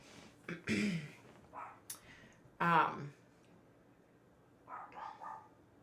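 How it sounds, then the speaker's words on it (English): A pet dog barks excitedly indoors at bedtime, giving a few short, scattered yaps and whimpers that come faint and sporadic, with a person's voice and throat-clearing mixed in between. "Y'all hear my dog? She's like going crazy."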